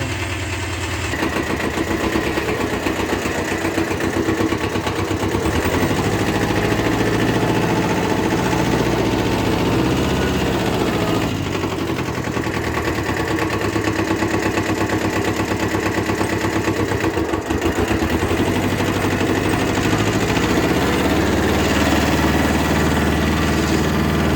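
Kubota mini tractor engine idling steadily with a constant low, throbbing drone and slight vibration, close by and unbroken for the whole stretch, with no voices.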